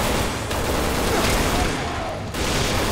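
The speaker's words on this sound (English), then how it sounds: "I'm gonna use the assault rifle now" An assault rifle fires in the video game Resident Evil 6, a dense rapid burst of gunfire that runs almost continuously with a short dip near the end.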